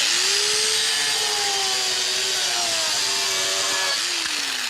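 A dual-blade power saw whines loudly and continuously as it cuts through wood molding, its high buzzing pitch wavering slightly as the blade works.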